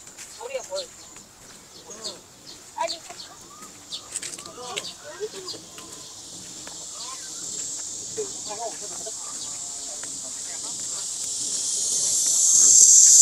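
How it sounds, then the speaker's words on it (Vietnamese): Cicadas shrilling in trees in a Korean village on a summer day, a high continuous drone that swells steadily louder toward the end, with a voice speaking over the quieter early part. "Đó là tiếng ve các bạn, ve sầu."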